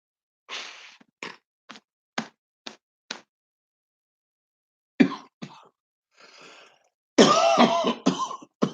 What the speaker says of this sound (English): there goes the cough again.